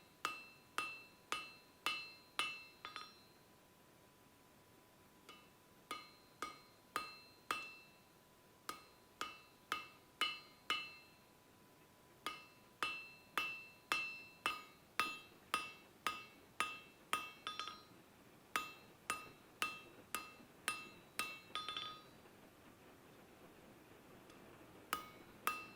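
A hammer forges a taper on the reins of Viking tongs, ringing blows landing close and fast in rhythmic bursts of a dozen or so strikes, separated by short pauses, with a bright metallic clink on each hit.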